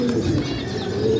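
At a pigeon club, pigeons coo softly and continuously over a close, busy background of rustling and other bird sounds, with no speech.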